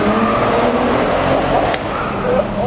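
A flash-tuned car accelerates hard from a second gear roll, giving a loud, steady engine roar heard from inside the car, with voices faintly mixed in.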